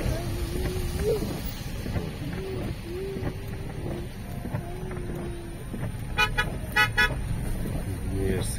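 A car horn toots several times on a snowy city street in Jalal-Abad, repeated short honks under steady traffic rumble and people talking.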